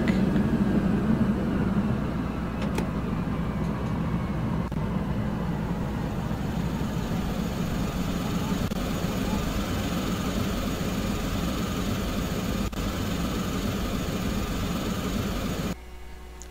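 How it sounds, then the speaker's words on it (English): DHC-6 Twin Otter turboprop engines in MSFS2020 winding down after landing, a steady low droning hum at constant level that cuts off sharply near the end, leaving a quieter residual tone. "Let's go ahead and shut the engines down, set the parking brake."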